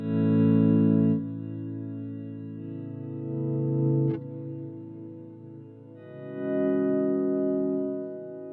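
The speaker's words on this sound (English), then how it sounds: "If you're trying to create an ambient preset, start with a cloud reverb" Sustained ambient guitar run through a Fractal cloud reverb, with long washy tails blurring the notes into a smooth pad that swells, fades and swells again, alone without talk.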